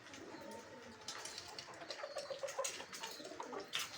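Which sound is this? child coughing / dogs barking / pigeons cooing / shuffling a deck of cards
pigeons cooing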